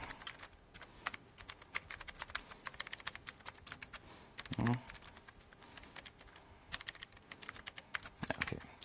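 Someone types fast on a computer keyboard during a live software demo at an open-source conference. The keystrokes are close and rapid, in irregular bursts, with a brief spoken word partway through.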